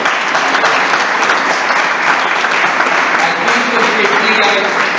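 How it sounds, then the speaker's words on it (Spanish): Applause from an audience at a church book presentation, sustained dense clapping throughout at a steady loud level. "Un fuerte aplauso."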